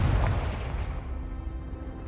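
A Confringo spell in Hogwarts Legacy goes off as a deep, booming blast up close, its low rumble fading over a couple of seconds with no talking.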